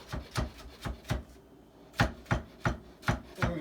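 Knife dicing vegetables on a cutting board, a steady series of about ten crisp, close chopping knocks with a short pause midway, no voices.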